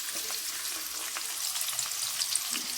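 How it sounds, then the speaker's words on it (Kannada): Chopped onions frying in a pan toward brown for gobi dum biryani, a steady soft sizzle and crackle running evenly throughout with no talking. "ಇದು ಸ್ವಲ್ಪ ಬ್ರೌನ್ ಕಲರ್ ಬರೋವರೆಗೂ ಫ್ರೈ ಮಾಡ್ಕೊಳ್ಳೋಣ."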